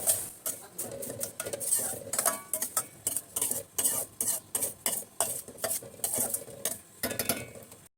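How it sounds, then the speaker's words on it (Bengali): Semolina being fried in ghee and stirred in a pan, heard as a run of sharp metallic scrapes and clinks from the spoon against the pan, repeated in an irregular rhythm, close by with no voices. "সুজির মধ্যে একটু ঘি দিয়ে ভেজে নেই।"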